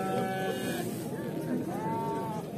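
Goats from Batken bleat at an outdoor livestock market, several overlapping wavering cries under a continuous crowd murmur with people talking nearby.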